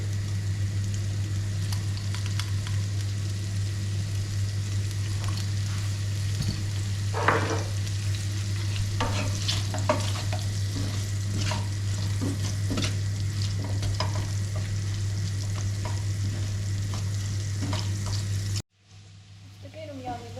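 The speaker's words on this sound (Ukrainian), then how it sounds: "Сюди додаю масло і вже з нею буду, на ньому буду підсмажувати картоплю" Potatoes frying in butter in a pan give a steady close sizzle with scattered crackles and stirring clicks over a constant low hum, ending abruptly in near silence.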